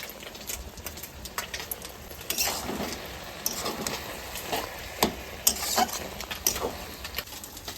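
Taro leaves stirred while cooking in a pan, with repeated scraping strokes and light clinks of a utensil over a soft wet sizzle, no talking.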